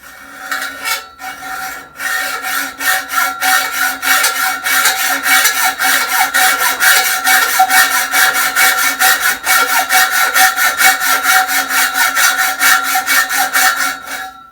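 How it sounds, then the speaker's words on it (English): Bimetal hacksaw blade cutting 2-inch stainless steel pipe held in a vise, a loud, close, rhythmic back-and-forth rasping of steady strokes continuing for about fourteen seconds without talk. "This is our 2-inch stainless steel pipe. We got a bimetal hacksaw blade in a vise."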